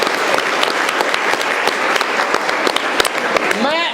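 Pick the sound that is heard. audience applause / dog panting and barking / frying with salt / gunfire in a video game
audience applause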